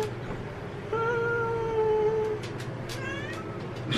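A person imitates a cat with a single drawn-out meow, close and fairly loud over faint room noise, followed by a few short, softer vocal squeaks.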